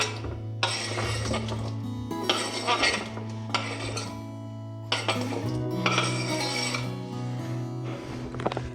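Carrot pieces tumble into a slow cooker for a beef stew, giving several loud clattering bursts of hard pieces hitting the pot, separated by short pauses over a steady low hum.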